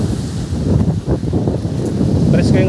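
Steady wind gusting across an open beach at a resort in Masiga, Gasan, Marinduque, a loud broadband rush close to the microphone, with a person talking over it.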